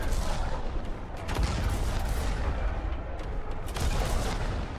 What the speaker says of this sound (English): I build the biggest artillery and blow everything up from a distance